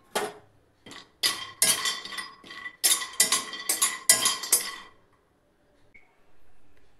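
Cashews and almonds roasting in a pan for Janmashtami laddoos, with a spoon scraping and clinking against the metal in a series of short, sharp stirring strokes, fairly close, then tapering to quiet.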